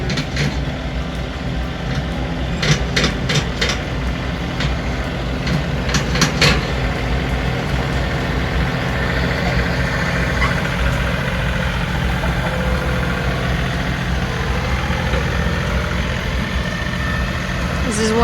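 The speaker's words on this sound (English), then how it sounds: "is dragging the disc over the ground here" A tractor drags a disc over a field to break up the ground before clover is spread, its engine droning steadily at idle-like pitch under intermittent speech, with occasional metallic clanks.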